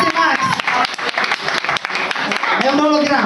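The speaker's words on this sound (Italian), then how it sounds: "Un applauso a Max." Loud concert applause in a club during a gig, dense clapping from the crowd with a voice speaking over it on the PA.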